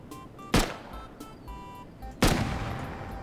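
A minicopter blows up in the survival game Rust, heard as two sharp, heavy blasts about a second and a half apart, each with a booming tail, over quiet game ambience.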